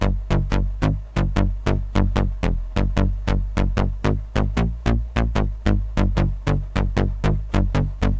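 Moog One synthesizer with its reverb turned off plays a dry, steady stream of short, punchy bass-heavy notes in a fast even rhythm, loud and close with no talking.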